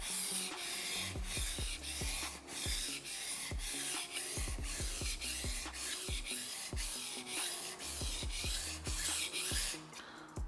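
A knife blade is pushed and drawn across a whetstone in steady repeated strokes, a rhythmic gritty scraping at close range, roughly one stroke every half second, continuing throughout without talk.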